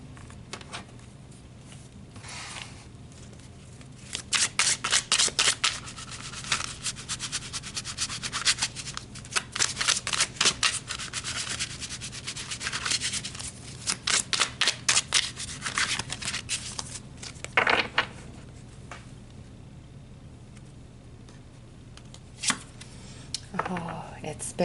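Tarot cards shuffled by hand in a quiet room: repeated close, crisp riffling bursts and soft rubbing of the deck, coming in uneven clusters over a low steady background hum.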